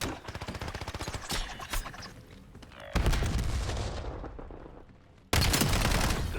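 Rapid bursts of gunfire from the Call of Duty video game, loud and dense, with sharp repeated shots and booms in several volleys separated by abrupt cuts, no talking.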